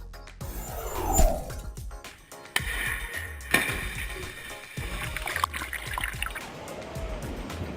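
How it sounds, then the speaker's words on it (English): The Orion crew capsule drops into the Hydro Impact Basin at Langley Research Center in a water drop test. Rushing, splashing water builds and sloshes, with sharp impacts and churning surges that carry on as the water settles. "The Orion crew capsule, as it completed the last in a series of water drop tests at the Langley Research Center's Hydro Impact Basin"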